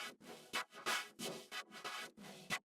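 Auto-panned synth with phase adjustment in an electronic track, a bright chopped pattern of short rhythmic bursts separated by gaps, moderately quiet and alone.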